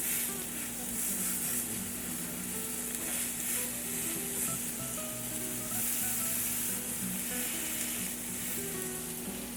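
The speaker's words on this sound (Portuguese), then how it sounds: "A gente vai dourar de todos os lados dessa carne" A rack of lamb sears in a hot pan, browning on all sides, with a loud, steady sizzle and crackle that continues without pause close up.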